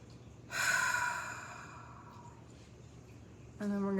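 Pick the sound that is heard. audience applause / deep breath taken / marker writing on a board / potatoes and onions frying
deep breath taken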